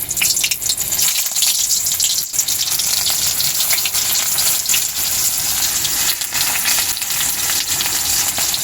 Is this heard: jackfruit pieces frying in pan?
yes